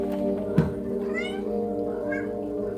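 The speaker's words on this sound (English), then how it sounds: "You guys want to see these kittens?" Young kittens meow repeatedly over a steady low hum, with a sharp louder cry near the start followed by thinner, rising mews close by.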